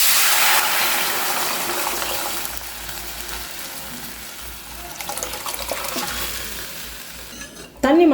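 Dal water poured into a hot oil tempering for rasam and stirred, a steady close sizzle and watery rush with stirring scrapes, easing off midway before a sharp clatter at the end.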